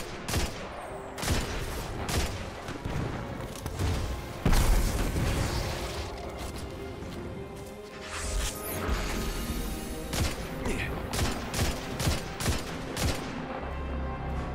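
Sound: rocket launcher and gunfire in Destiny 2 video game

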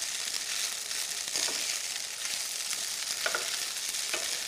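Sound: stirring smoked mackerel pilaff in a pan

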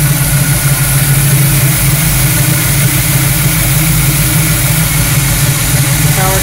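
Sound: car engine idling

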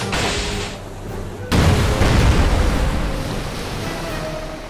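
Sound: torpedo launched at merchant ship in WW2 naval video game

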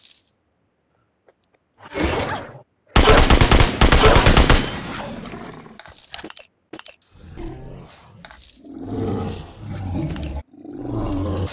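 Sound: gunfire in video game Metro Royale

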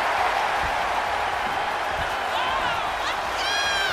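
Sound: crowd cheering for Jey Uso in WWE 2K24 video game

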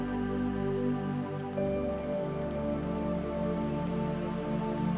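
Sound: rain falling on a surface

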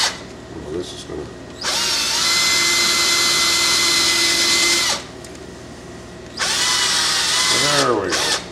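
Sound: power drill drilling through carved wood coffee pot

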